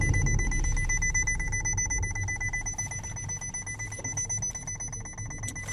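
A Hyundai Accent transmission with a worn differential bearing gives a steady, continuous mechanical hum with high tonal whine, constant and close throughout.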